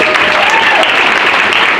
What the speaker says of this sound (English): let's give these ladies an amazing round of applause